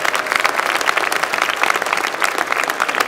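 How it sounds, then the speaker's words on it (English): Graduates at a University of Maryland winter commencement ceremony clap for themselves, a loud, dense, sustained wash of crowd applause with no pauses and no voices over it. "Go ahead, give yourself a hand."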